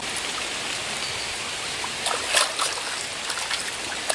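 Water splashes and trickles steadily while salted barramundi is washed at an outdoor pond bank, with a slightly louder burst of splashing near the middle.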